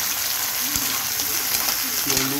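Mussels sautéing with ginger in a pan, giving a steady, close sizzle and hiss with a few soft stirring clinks, while a voice speaks over it.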